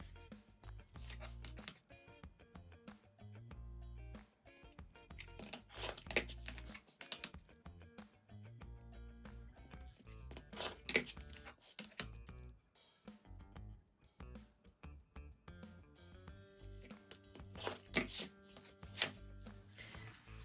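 Quilt block fabric edges are trimmed with a cutter in a series of quiet, irregular crisp cuts and small scraping strokes, close up, with no talking.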